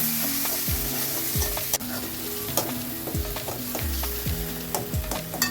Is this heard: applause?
no